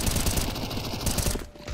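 Rapid gunfire in Counter-Strike 2, three bullets shot up through smoke, heard as a dense, continuous burst of loud shots throughout with a brief dip near the end.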